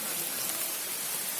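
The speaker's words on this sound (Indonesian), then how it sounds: "Di sini kita dihadang oleh hujan guys, walaupun tidak deras tapi lumayan." Steady light rain patters on the surroundings of a mountain hiking trail on Gunung Gede, a dense, even hiss close by with no voices.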